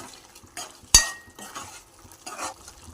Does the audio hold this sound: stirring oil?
yes